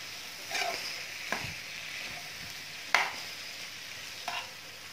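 Chopped capsicum stirred into potatoes frying in a pan, a soft low sizzle broken by a handful of spoon scrapes and taps against the pan, close by and quiet, no talking.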